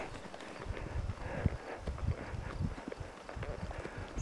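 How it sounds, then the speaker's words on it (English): Horse hooves clip-clopping in a quick rhythmic gallop during a spring cattle roundup, close and continuous, with no speech. "we're gonna start galloping here."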